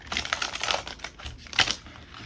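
A deck of tarot cards is shuffled up close, giving a steady run of crisp riffling and slapping card sounds with no talking.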